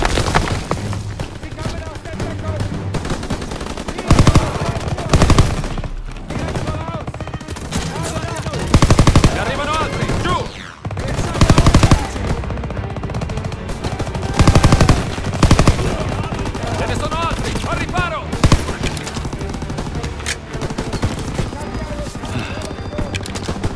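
Dense World War II combat in Call of Duty: WWII, with sustained machine-gun bursts and rifle shots, loud and close, under shouted voices throughout.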